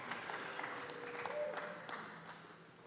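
An audience at an indoor archery finals claps in a brief, moderately loud burst of applause that fades slightly over a few seconds.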